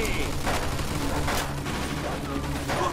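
Gunfire from a machine gun in the video game Mafia 2, a dense burst of shots mixed with booms and battle noise, loud and continuous throughout, with voices talking over it.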